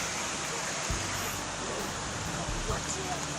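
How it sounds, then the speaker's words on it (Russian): Mountain river flowing past a campsite near the Sofia lakes and waterfalls in Arkhyz, a constant broadband rush of water, fairly faint and even, with a few low thumps underneath. "Вот тут река течет сразу."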